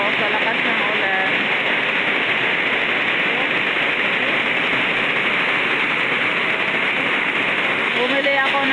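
A steady, heavy downpour roars without pause, a dense wash of rain pounding on surfaces with faint voices beneath.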